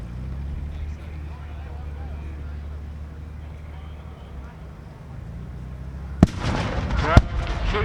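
Gunfire at a military tanks, trucks and firepower show: two sharp loud reports cut through a steady low engine rumble and crowd noise near the end, with someone talking over the scene.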